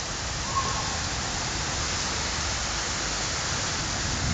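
Heavy rain pouring steadily on a flooded street in Katowice, ul. Mikołowska, where the road has turned into a river; a dense, even hiss of water with no voices, constant throughout.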